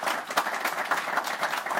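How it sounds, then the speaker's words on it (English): Audience applause for three panel guests at a live talk event, a dense steady round of clapping from a crowd throughout, fairly close and with no talking over it. "Give my panel, give our 3 guests, fantastic round of applause."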